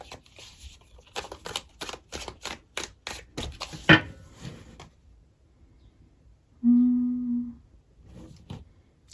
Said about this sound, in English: Actually, I think I'm done shuffling.